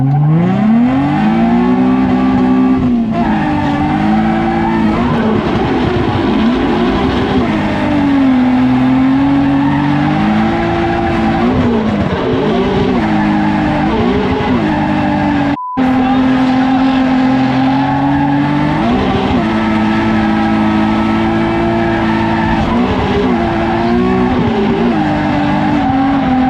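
A Nissan 350Z engine howls steadily at high revs, its pitch sweeping up and down under hard driving, with tire squeal and exhaust pops mixed into a loud, continuous, close roar and no talk.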